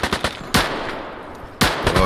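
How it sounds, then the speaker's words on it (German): Loud automatic gunfire in the survival shooter Deadside: a rapid opening burst, then two sharp, heavy shots each followed by a decaying echo, close and dominant. "Die schießen aber auf irgendwen."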